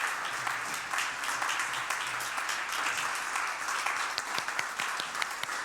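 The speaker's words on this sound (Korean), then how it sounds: "우리 박수로 응원하겠습니다" A church congregation at a Friday prayer service applauds singers returning to their seats, sustained clapping from many hands that grows more scattered and individually distinct toward the end.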